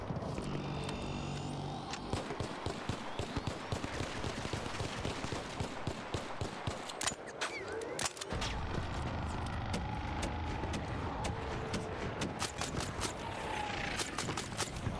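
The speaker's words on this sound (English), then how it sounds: "did you know you can actually shoot out the Queen or the Matriarch's rockets mid-air without taking" Shooting down the Queen's or Matriarch's rockets mid-air in the ARC Raiders video game brings rapid bursts of gunfire, crackling in dense volleys with sharp impacts and a brief dip before the shooting resumes.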